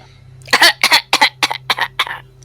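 A close burst of about six sharp, rapid coughs in a row, over a faint steady hum.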